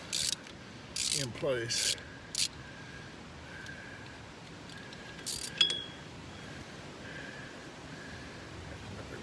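A socket ratchet on an extension works the axle flange nuts through a hole in the flange, giving short bursts of rapid clicking early on, then a metallic clink, with a brief spoken word and quiet shop background.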